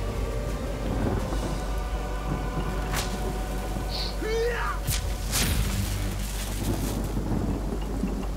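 Lightning spells in the video game Divinity: Original Sin set off loud rumbling thunder with sharp cracks over a steady rain-like wash of game noise, with voices talking faintly underneath.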